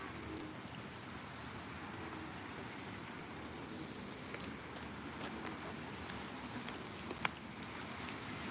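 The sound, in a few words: rain falling during a fishing livestream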